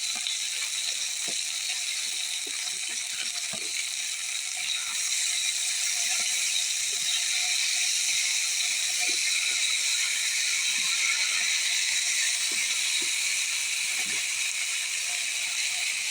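Potatoes and onions sizzle in hot oil in a pan, a steady, even hiss with faint crackles throughout and no voices.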